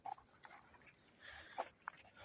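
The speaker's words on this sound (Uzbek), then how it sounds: "Mana meni kuchukcham" A few faint, brief whimpering yelps from a small puppy, scattered over quiet outdoor background noise.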